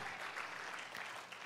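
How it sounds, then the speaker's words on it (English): A church congregation claps during a sermon, a short, dense burst of hand claps with a faint murmur, fairly soft and even throughout. "give the Lord a hand clap for it"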